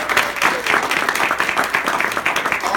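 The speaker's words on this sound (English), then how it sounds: "Big round of applause, Tito Lugo," Audience applauding at a Boston Christmas celebration, El Jolgorio Navideño, a dense, steady wash of many hands clapping close and loud throughout, with no talk over it.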